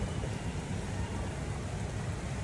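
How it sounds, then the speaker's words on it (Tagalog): Heavy rain with wind, heard through an apartment window facing a building, a dense, steady roar of falling water that holds even and loud with no breaks. "lakas-lakas ng ulan."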